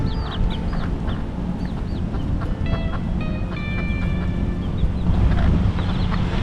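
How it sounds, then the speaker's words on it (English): Chickens cluck and call in a park on Maui in Kahului, with several birds chattering over a steady outdoor rumble of wind and distant traffic. "we come to Hoaloha Park, where Chicken and her chicks live"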